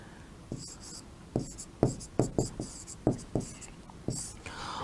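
Writing by hand, a steady run of short scratchy strokes in an uneven rhythm, close and fairly clear, with a faint voice in the background.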